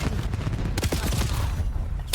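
Gunfire exchange in the video game Call of Duty Black Ops 7, a dense burst of overlapping shots crackling across the whole short moment, loud and close.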